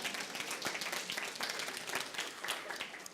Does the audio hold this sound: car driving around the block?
no